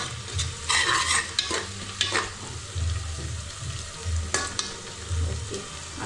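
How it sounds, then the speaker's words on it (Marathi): Turmeric and mutton masala stirred in hot oil give a bright sizzle, with repeated scraping stirs and low clunks of a spoon against the pan, close and unbroken by talk. "मसाला टाकायचा तेलावर हळद मटन मसाला तिखट मसाला सगळा मिक्स करून"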